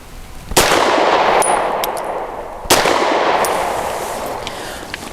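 Two sharp, loud pistol shots from a Grand Power P1 Ultra fired at a range, spaced about two seconds apart, each followed by a long ringing decay and faint metallic clinks.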